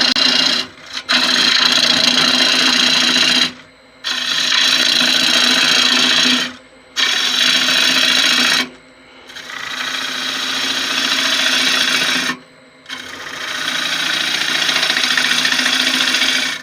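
A wood gouge cuts out the centre of a badly checked log bowl spinning on a lathe, giving a loud, continuous rough shearing roar in long passes broken by short pauses, close and unaccompanied by talk.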